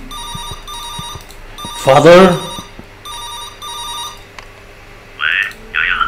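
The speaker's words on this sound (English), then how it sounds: "It's the phone!" An electronic telephone ring sounds in a creepy mother-themed horror video game, repeating in steady bursts throughout, with a brief voice speaking over it midway.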